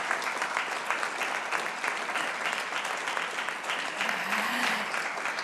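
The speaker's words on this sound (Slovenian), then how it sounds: "Prosim še za en aplavz." An audience at a classical festival presentation in Novo mesto gives sustained, even applause, steady clapping throughout at a moderate distance.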